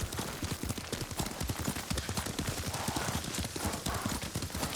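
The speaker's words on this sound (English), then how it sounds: "Lord Sakai taught me to ride a horse." Horse hooves gallop in the video game Ghost of Tsushima, a fast, even, close clip-clop drumming that runs without a break over a bed of ambient game sound.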